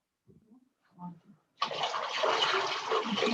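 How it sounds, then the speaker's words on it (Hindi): Warm water poured into a foot basin for a patient, a broad steady splashing rush that starts abruptly after a few soft sounds and continues loud to the end. "इस तरह से पानी डालते हैं और फिर हाथ से देखते हैं पानी कहीं ज्यादा गर्म तो नहीं हो गया है"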